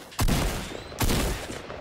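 Two quick bursts of gunfire from a banana character's weapon in Fortnite, loud and close, each a sharp volley followed by a sustained rattling tail.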